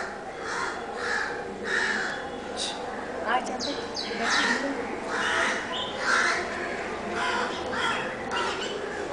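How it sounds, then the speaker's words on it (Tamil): Crows caw several times, moderately near, with other birds chirping faintly in the background while people talk over the calls. "அந்த காக்கா வந்திருக்கா பாரு"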